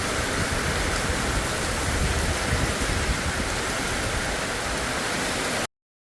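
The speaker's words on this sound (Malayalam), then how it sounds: "അപ്പോഴേക്കും മഴ വന്നു തുടങ്ങി" Steady hiss of rain falling, an even wash of noise that holds for several seconds before cutting off abruptly.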